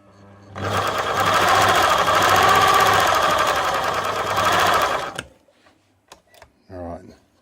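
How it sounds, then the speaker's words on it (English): A Singer Model 527 sewing machine runs a zigzag stitch in one steady, loud, close whirring burst of about five seconds, then stops, followed by a few faint clicks and a brief trailing sound. "Let's engage our zigzag stitch and see what craziness ensues"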